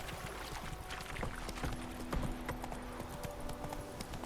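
Roach, the horse in The Witcher 3 video game, trots steadily, hooves clopping in a continuous rhythm over a constant outdoor ambience, with a short snort or neigh partway through.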